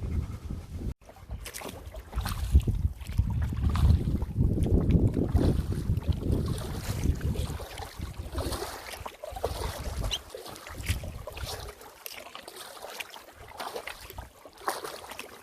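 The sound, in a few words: paddling an Esquif Prospecteur 16 canoe on a lake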